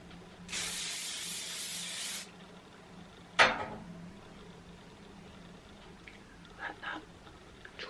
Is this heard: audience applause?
no